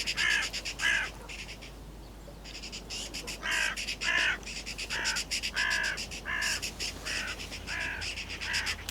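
A magpie on a hillside gives a series of harsh, chattering calls in short repeated bursts, fairly close and clear over a quiet outdoor background.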